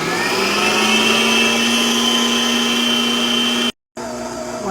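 An electric mixer blending egg and vanilla into oatmeal cookie dough whirs loud and steady up close, cutting out abruptly for a moment before starting again.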